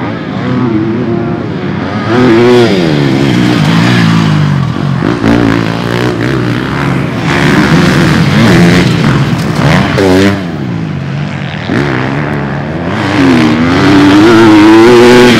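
A 2023 GasGas MC 250F motocross bike rides a track, its engine loud and close, revving up and down through repeated throttle surges and shifts, with no voices over it.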